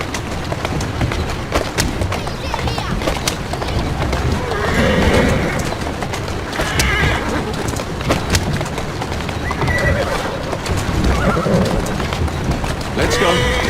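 A horse in the Assassin's Creed Syndicate video game neighs and whinnies repeatedly over steady galloping hoofbeats, with a voice speaking over the action.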